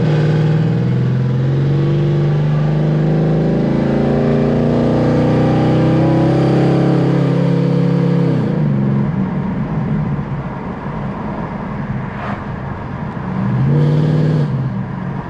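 A Ford Crown Victoria swapped with a 7.3L Godzilla V8 pulls hard from a standstill, its engine note climbing loudly through the gears, with a shift break partway through and a brief revving surge near the end.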